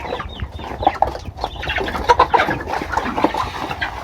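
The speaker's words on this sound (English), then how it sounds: "I'll show you how my hens are." Hens on a poultry farm cluck steadily and close by, many overlapping calls forming a busy flock chorus with no talk over it.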